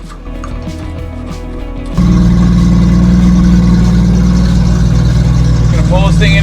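A 1973 Toyota Land Cruiser FJ55 engine fires up loudly after two seconds of quieter background and holds a steady, close, heavy rumble as the truck is driven into the bay.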